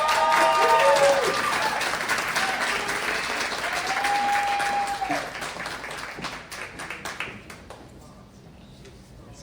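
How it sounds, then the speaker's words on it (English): A crowd at an East Texas songwriter showcase applauds its first performer, dense clapping and a few whoops that stay loud for several seconds and then thin out toward the end. "Our first performer, y'all big round of applause."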